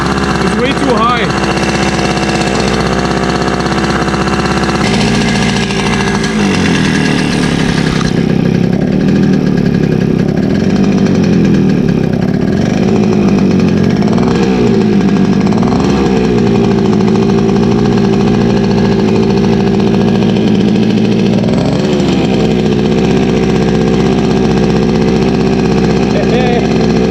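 A Yamaha RD50 motorcycle engine runs at a high idle with the throttle held by hand, a loud, steady two-stroke drone that wavers slightly in pitch throughout, with a person talking over it.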